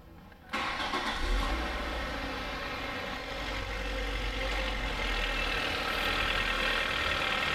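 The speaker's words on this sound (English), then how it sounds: "we'll go ahead and we'll start the car" A car engine starts abruptly and then idles with a steady low rumble close by.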